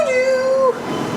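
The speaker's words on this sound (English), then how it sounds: "We're only on it for 1 stop, and then we're going to get the other shuttle train." Aboard a light rail shuttle train in a Chinese city, a loud tonal whine slides downward then cuts off, leaving a steady rumbling ride noise close around the listener.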